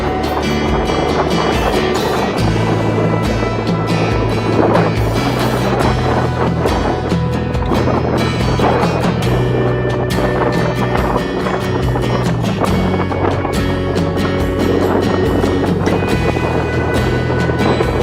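Strong gusting wind buffeting the microphone on the slopes of Mount Marapi in West Sumatra near the summit crater, a loud, continuous rough roar with heavy low rumble swelling and easing.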